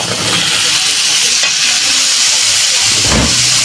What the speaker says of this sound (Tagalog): Igisa lang po muna natin ang ating opo.